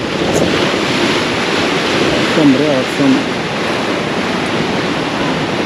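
Sea waves break along a Goa beach in a continuous roar, with wind buffeting the microphone and a brief voice over the surf.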